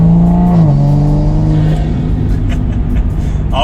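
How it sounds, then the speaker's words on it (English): Toyota Supra with a turbo and an Armaspeed carbon fiber air intake driving on the road, its engine droning loud and close and shifting pitch as it pulls through the gears, with steady road noise underneath. "now let's drive the car and see how this thing sounds"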